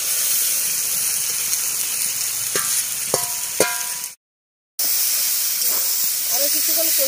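Snail curry with potato and eggplant sautéing in a pan, a steady close hiss and sizzle with a few spoon or utensil clinks, briefly cut out before the sizzling resumes.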